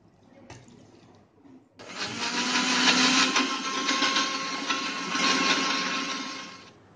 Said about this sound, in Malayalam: ജ്യൂസ് മിക്സിയിൽ അടിച്ച് നന്നായി അടിച്ച് വന്നിട്ടുണ്ട്